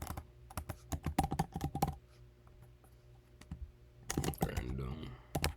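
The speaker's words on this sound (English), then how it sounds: "I'm gonna type in generate" Computer keyboard keys clicking in quick bursts of typing, close and fairly clear, with a pause before another dense flurry of keystrokes.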